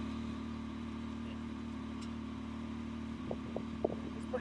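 Can-Am Maverick X3 XRS side-by-side running with an aftermarket intake and charge tubes, a steady, droning engine note heard from inside, with a few faint knocks and bumps toward the end.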